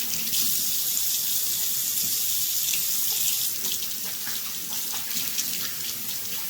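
Hands are washed under a running kitchen tap while baking homemade biscuits, a steady, close rush of water splashing into the sink that continues without a break.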